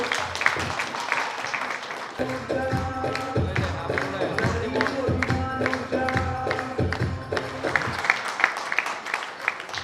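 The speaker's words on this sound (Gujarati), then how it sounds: "આપ સૌની જોરદાર તાળીઓ સાથે હું જયની શાહને સ્ટેજ પર આવવા નમ્ર વિનંતી કરું છું" An audience applauds at a women's award ceremony as a guest is welcomed to the stage. Dense, steady clapping fills the room throughout, with music playing underneath through the middle stretch.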